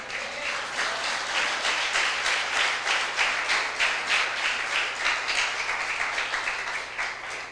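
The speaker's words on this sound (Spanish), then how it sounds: "¿Cuántos aplauden al Señor?" Church congregation applauding during a Spanish-language sermon on spiritual warfare, sustained loud clapping with an even rhythm that holds for several seconds without fading.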